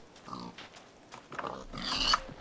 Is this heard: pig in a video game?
yes